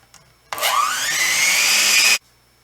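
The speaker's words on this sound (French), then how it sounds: "avec un batteur, je vais fouetter pendant 3 minutes" An electric hand mixer whips softened butter in one loud, steady whir of about a second and a half. It starts abruptly, its pitch climbs briefly as it spins up, and it cuts off sharply.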